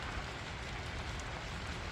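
Steady rain falling outside a high tunnel, a dense, even hiss and patter on the surface that is soft overall and continues without a break.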